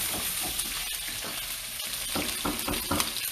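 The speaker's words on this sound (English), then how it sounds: "So right now I'm gonna just dump my vegetables in get everything to saute." Vegetables sauteing in a very hot pan give off a steady, close sizzle and crackle, with faint stirring scrapes, no voices.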